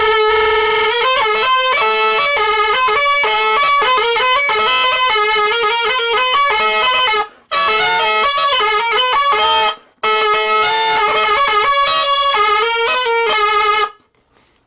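An alboka, a Basque hornpipe, plays a loud, reedy, buzzing melody with sustained notes and quick ornaments, broken by a few short pauses before ending abruptly.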